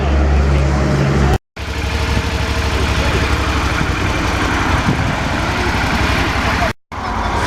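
A Suzuki SV motorcycle with a 90-degree V-twin idles nearby, a loud steady rumble with an even low pulse, cut by two brief dropouts, and speech tags suggest possible voices underneath.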